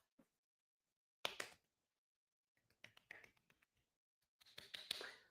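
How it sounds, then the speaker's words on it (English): A quiet golf clap from one person on a wrestling talk show: a few soft, close claps in short, irregular bursts separated by silence. "Golf clap, golf clap."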